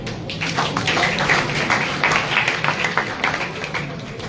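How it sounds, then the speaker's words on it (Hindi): Enthusiastic applause at a college debating society orientation, a continuous wash of many hands clapping at steady volume, slightly muffled and roomy. "एक बार जोरदार तालियां"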